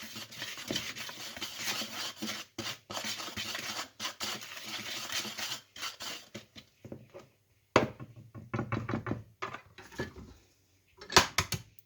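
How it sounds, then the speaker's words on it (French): A spoon scrapes and clinks against a bowl while sugar is stirred into pineapple cake batter, with irregular bursts of rubbing and scraping broken by short pauses, close and fairly quiet. "J'ajoute le sucre. Je mélange."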